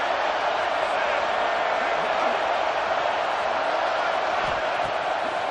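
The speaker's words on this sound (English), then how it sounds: "Listen to this crowd just shaking the girders of this place" Stadium crowd roaring in a football video game, a dense continuous wall of cheering noise that holds steady and loud throughout with a commentator's voice blended underneath.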